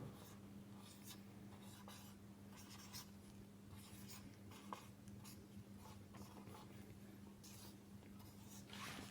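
Marker or chalk strokes scratch steadily across a classroom board as a chemical compound's name is written out in large letters, a run of short squeaky scrapes over a low steady hum, with no talking.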